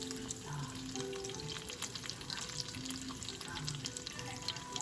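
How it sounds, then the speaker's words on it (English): Garlic sizzles steadily in a hot pan for a home-cooked Asian-style dish, a continuous crackling fry with faint stirring scrapes and no talking. "So I just need something so I can saute my garlic. I'm gonna put the garlic right there."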